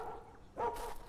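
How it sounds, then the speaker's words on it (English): A small dog barks inside the puzzle escape video game After You, giving a short burst of a bark or two midway through a quiet, low-level background. "There's a little dog trapped in there."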